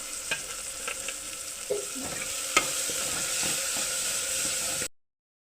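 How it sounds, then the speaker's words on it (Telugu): Tomatoes frying in a pan, cooked with garlic paste for methi rice, give a steady close sizzle with repeated scraping taps of a spoon stirring; the sound runs alone without talk and then cuts off abruptly. "నెక్స్ట్ టమోటాలు వేసుకోవాలి. బాగా కలుపుకోవాలి."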